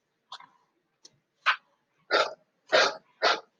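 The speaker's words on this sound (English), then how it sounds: "That barking sound means that the class is over" A dog barks six times, used as a class bell: two faint short yips followed by four louder, sharper barks at a steady, spaced rhythm.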